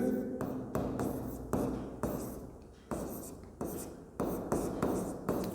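Chalk or marker scratching on a board in bursts during a physics lecture on vectors, with short strokes separated by brief pauses, close and clear, no talking over it.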